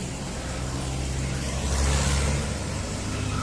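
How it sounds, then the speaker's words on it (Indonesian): A truck rolls past on a Jakarta street near an old Portuguese church, a steady low engine rumble that swells as it nears and then eases off, close by in outdoor traffic. "Oh, sini ada truk."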